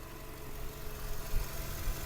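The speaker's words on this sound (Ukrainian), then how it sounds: "Робота двигуна" A Skoda Octavia 1.6 MPI petrol engine idles with a steady, even low hum and a faint mechanical rattle, heard close with no voices over it.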